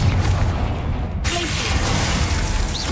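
Confringo explosion spell in Hogwarts Legacy, a loud burst with a whooshing, crackling rush that fills the clip, set against constant game sound with a sharp shift partway through.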